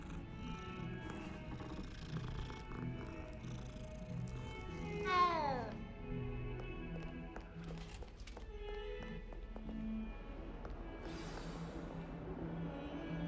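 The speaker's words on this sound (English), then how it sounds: "Another kitty." A cat in Hogwarts Legacy meows several times amid the game's music and ambient sounds, the cries rising and falling over a steady background.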